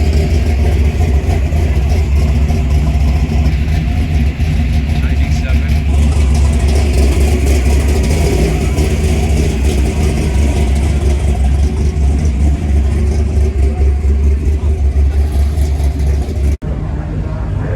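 A Dodge Viper at a Palm Springs collector car auction, its engine rumbling at a steady loud idle with slight swells in revs, close by and continuous, while people talk over it.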